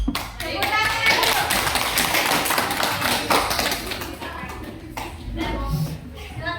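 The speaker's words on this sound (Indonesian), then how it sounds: "Tepuk tangan dulu" Children in a primary school classroom clap their hands together in a lively burst of applause lasting several seconds, with a few scattered voices mixed in.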